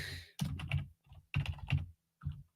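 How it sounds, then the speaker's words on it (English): Rapid clattering keystrokes on a computer keyboard during a live giveaway stream, coming in close, uneven bursts with short pauses between runs of typing. "Hold on, I can stop typing for a second."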